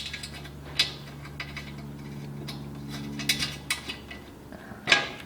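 A 1/4 inch nut and bolt on a motorcycle fender kit is tightened with an Allen key and 7/16 wrench, producing a few sharp metallic clicks and clinks over a low background hum, no talking.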